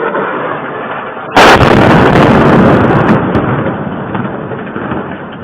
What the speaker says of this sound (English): a missile strike on Donetsk, and you can see it's just the cruise missiles flying in here